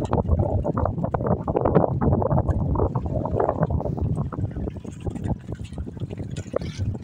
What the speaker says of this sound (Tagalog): Grabe yung hangin mga idol,